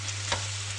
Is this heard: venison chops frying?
yes